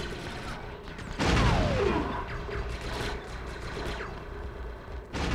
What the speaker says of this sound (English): You throw a grenade and you blow somebody off.